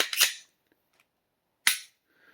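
Two sharp mechanical dry-fire trigger snaps from a SIG P365 Macro pistol, the second about a second and a half after the first, each crisp and isolated against near silence.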